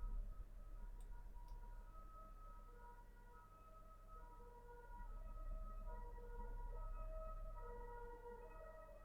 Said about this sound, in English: We haven't had a good ambulance in a while, so that's nice to hear.